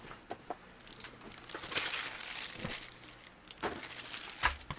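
A sheet of paper crinkles and crumples close by during model-kit building, soft scattered rustles with a few sharper crackles and no speech.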